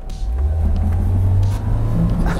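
A Lada Niva Bronto climbs an off-road hill, its engine giving a loud, steady low rumble that rises slightly under load, heard close with no voices.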